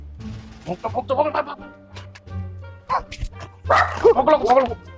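A dog barks and yips in several short, sharp bursts, fairly close, mixed with people talking loudly around it.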